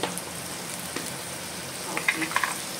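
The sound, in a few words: masala frying in a hot pan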